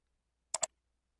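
Two quick, faint computer mouse clicks land close together in otherwise silent surroundings.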